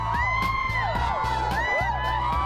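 Riders on a thrill ride scream and whoop in a dense, continuous crowd roar, loud and close, with shrill shouting voices rising and falling over a constant mechanical hum.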